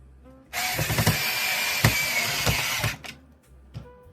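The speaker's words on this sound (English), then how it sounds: "drill it the rest of the way" A power drill bores into the armature of a clay parrot sculpture, one sustained whirring burst of about two and a half seconds with brief catches, then a short second buzz, close and loud in a quiet room.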